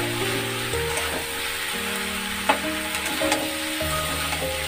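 Bottle gourd pieces being stirred with spice paste in a pan for a Bengali lau chingri dish give a steady sizzle, with scraping stirs and a sharp clink around the middle.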